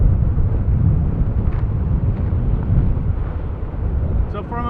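Steady, loud wind buffeting on a Rode NTG2 shotgun microphone outdoors, a dense low rumble running throughout with faint traffic beneath.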